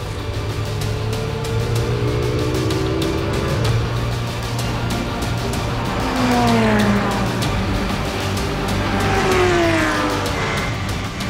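Audi GT race cars from the WRT team pack together at the start of the 24 Hours of Spa, engines roaring loudly and continuously, with rising and falling pitches as cars accelerate past, a dense layered racing din with no talk.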